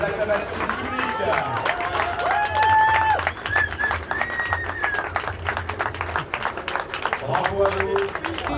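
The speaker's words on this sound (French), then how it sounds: "On reçoit l'acclamation du public." A crowd greets a sixth-place IMOCA sailing boat finishing a race in Martinique, with scattered clapping and cheers under a dense babble of voices and people talking nearby.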